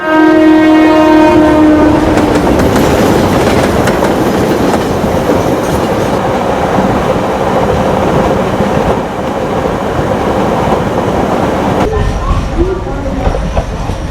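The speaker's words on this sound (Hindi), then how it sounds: "पटना जाने वाली Tripura Sundari express platform number 2 पर आ रही है" A passenger express train arriving at a station platform, loud and continuous, with horn tones at the start, rumbling wheels and clattering carriages throughout, close and steady.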